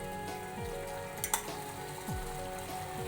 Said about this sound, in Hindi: और ये देखिए हमारे टोस्ट फ्राई हो चुके हैं गोल्डन।